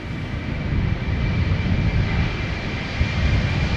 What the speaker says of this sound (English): KLM flight 1753 to Hamburg.